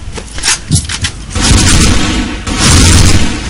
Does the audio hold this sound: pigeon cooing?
no